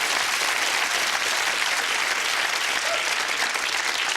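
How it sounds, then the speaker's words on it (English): Studio audience at a 1997 television quiz show breaks into applause, a thick, even wash of many hands clapping at constant loudness from start to finish. "Round of applause for those 29, yes"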